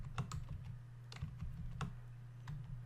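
Typing on a computer keyboard while writing VBA code, with irregular bursts of quiet, close key clicks over a low steady hum; no one speaks.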